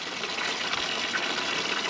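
Tap water steadily gushing into a horse's water container outdoors during a drought in California, a continuous close hiss of filling liquid with no talk.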